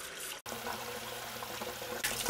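A splashing, pouring water effect from the Roach Master cockroach mobile game, a short continuous gush broken by a brief dropout near the start and a louder burst at the end.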